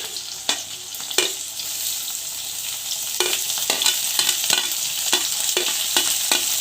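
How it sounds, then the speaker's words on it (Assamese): Chopped vegetables frying in a pan for veg maggi hiss with a steady sizzle, while repeated scraping stirs from a spatula land in a loose rhythm. "এতিয়া মই ইয়াত মোৰ কাটি ৰখা চব্জিখিনি দি দিছোঁ।"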